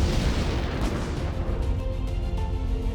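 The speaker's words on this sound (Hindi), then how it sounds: "फैक्ट्री में बड़ी संख्या में पटाखे रखे थे, जिसकी वजह से जबरदस्त धमाके हुए।" A fireworks factory explodes in a dense, continuous rumble of booming blasts and crackling bursts that rolls on throughout, loud and sustained like a chain of explosions.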